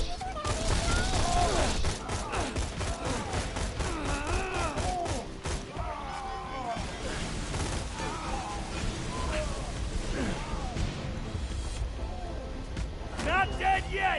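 Rapid pop-gun fire in Borderlands 2 rattles off in quick bursts amid explosions and game effects, with someone talking and a busy music bed throughout.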